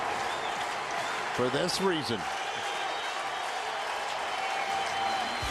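A Cardinals–Cubs baseball crowd applauds in a broad, steady wash of clapping and cheering heard at a distance. A commentator talks over it throughout.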